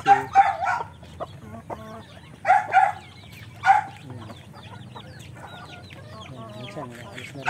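A rooster, a hen and her chicks on a backyard poultry farm: loud clucking bursts up close, then softer peeping and cackling continue alongside the calls.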